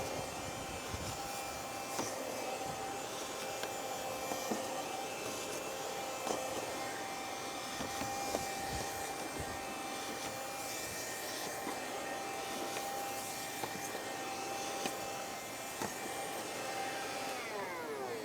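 A Karcher WV5 window vacuum runs continuously while cleaning glass from the top down, giving a steady whirring motor drone with a faint tonal whine and small shifts in pitch, and no talk.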